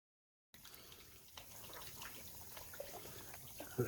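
Grey water drains out of a fish tank with a faint, steady trickle and splash after a short silence, quiet and continuous with small drips near the end.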